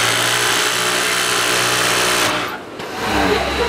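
An overdeck sewing machine with a hot needle runs smoothly and steadily at close range, a loud continuous mechanical whir that dips briefly before resuming.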